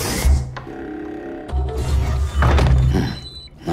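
Using a toilet in the video game Death Stranding: a series of dull game-sound thunks and thumps over a low rumbling backdrop, with several heavier hits spread across the moment and no talking.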